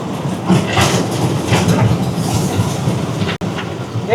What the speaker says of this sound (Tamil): சரி ட்ரெயின் வந்து ஸ்டாப் ஆகுது, ஸ்டேஷனுக்கு வந்துட்டோம்